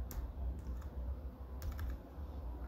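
Typing on a PC computer keyboard, a quiet run of light key clicks with short bursts and pauses, close by over a low background hum.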